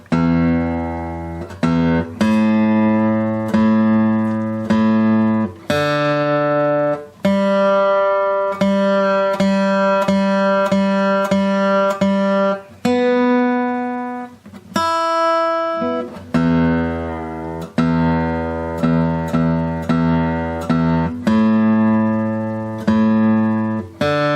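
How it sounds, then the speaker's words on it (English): A steady tone plays several times, then the strings of a Martin D-25K acoustic guitar are plucked and strummed one by one during tuning, ringing out clearly with brief pauses between notes. "let me just tune it one more time and play it one more time for you"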